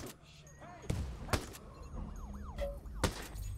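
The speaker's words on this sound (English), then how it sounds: "It's got a siren. I love it." A vehicle siren wails in the video game Ghost Recon Breakpoint, its rising and falling tone moderately loud amid gameplay noise and sharp thuds, with a person talking over it.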